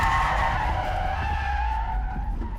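A car held too long on the handbrake skids and spins around, giving a loud, continuous tire screech that fades slightly toward the end.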